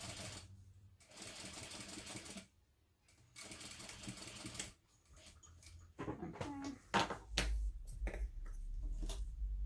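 A home sewing machine stitches a fabric hobo bag, running close and steady in long bursts broken by brief pauses.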